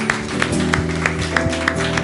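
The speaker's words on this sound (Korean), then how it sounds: "앞에 영광의 박수를 올려드리겠습니다" A church congregation claps in a steady rhythm during a Sunday worship service, sharp evenly spaced claps over sustained music.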